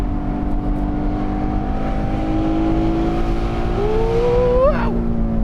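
A DeMan 4.5-litre naturally aspirated Porsche 718 Spyder engine revs, a steady loud drone that climbs in pitch near the end and peaks sharply before dropping, heard from inside the car.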